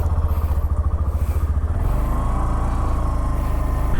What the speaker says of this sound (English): Now let's go for a short ride on the all new king of the commuter CC segment bikes, the all new Hero Glamour X.